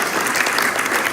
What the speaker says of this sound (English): round of applause for all of our students that dress up for Halloween costume